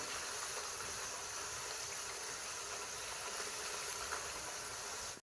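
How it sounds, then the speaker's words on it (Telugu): Thinly sliced potato pieces for chips frying in oil, a steady, fairly quiet bubbling hiss that continues evenly throughout before cutting off abruptly. "ఇప్పుడు ఇవి మినిమం లైట్గా బ్రౌన్ కలర్ వచ్చే వరకు మనం ఫ్రై చేస్తూ ఉండాలి."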